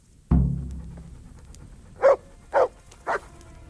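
A dog in the Kingdom Come Deliverance video game barks three times in a quick, evenly spaced run at moderate distance, after a single dull thump.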